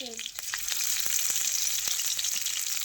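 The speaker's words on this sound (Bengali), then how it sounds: "তেলের মধ্যে দিয়ে দিব দুটো লঙ্কা" Two chilies spitting and crackling in hot oil in a home kitchen pan, a steady close sizzle with sharp pops scattered throughout, no talking.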